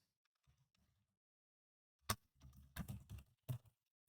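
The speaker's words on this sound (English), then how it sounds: "After that, we can type it in the password" A password is typed on a computer keyboard after a quiet pause, a short burst of soft, close key clicks in an uneven rhythm with no speech.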